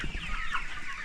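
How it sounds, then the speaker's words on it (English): Improved Kienyeji chicks cluck and cheep during early-morning feeding on a poultry farm, a faint, continuous chorus of overlapping calls over low background rumble. "it's an early morning and we are now feeding these birds"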